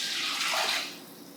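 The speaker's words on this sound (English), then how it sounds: "I'm putting in 8 cups of water." Eight cups of water pour into a soup pot for beef barley soup, a bright splashing rush that swells and then tapers off, quiet and close with no talk.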